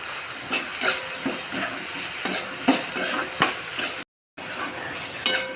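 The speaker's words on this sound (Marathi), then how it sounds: "आता आपण याला नरम होईस्तोवर चांगला शिजू देणार आहोत." Tomatoes with a little salt softening in a pan for matar paneer, a close steady sizzle with frequent light stirring scrapes and clinks, broken by a brief silent gap.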